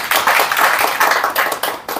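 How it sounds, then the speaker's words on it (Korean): A room of insurance sales staff clapping at the start of a training session: close, loud, brisk hand claps in uneven bursts, with brief dips between them and no talking. "박수 부탁드립니다"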